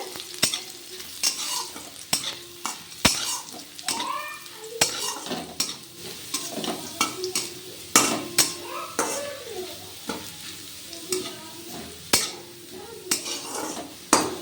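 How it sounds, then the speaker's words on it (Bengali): Chopped garlic frying in a pan with kalonji and dried chillies for jute leaf fry, a steady sizzle punctuated by sharp, regular clacks of a spatula striking the pan, close and loud throughout. "রসুন কুচিটা দিয়ে আমি খুব ভালোভাবে একটু ভেজে নিচ্ছি লাল লাল করে ভেজে নেবো রসুন কুচিটা"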